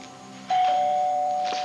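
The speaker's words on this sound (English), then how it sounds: "I can lean on this doorbell all morning" A doorbell chimes once with a steady sustained tone that rings on clearly, close and alone.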